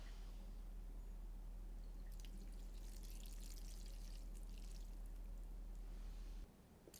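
Oyster cooking water and konbu stock poured into an earthenware pot of rice, a steady faint liquid stream with soft splashing that runs for several seconds before stopping.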